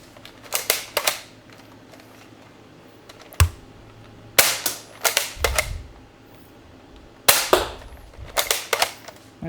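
A Nerf blaster fitted with a 10lb spring fires darts in sharp, loud snapping shots, often in quick clusters, with clicks and clacks from cocking in between.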